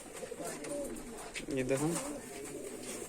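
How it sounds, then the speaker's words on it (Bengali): Mushki and dobaj mushki pigeons coo softly, a couple of rolling throaty calls near the middle under a brief spoken voice and low background chatter. "দাদার কাছে আজকে দু রকম পায়রা আছে"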